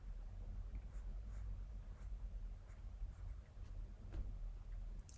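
A pencil moves across paper while an eyelid is drawn in a portrait sketch, making quiet, intermittent scratching strokes close by.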